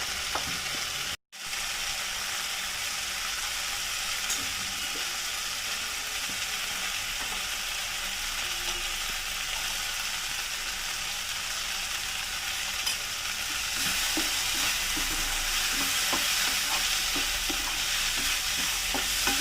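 Puffed rice upma stir-fried in a pan with turmeric and chili powder, a loud continuous sizzle with steady scraping and stirring throughout, growing slightly busier toward the end.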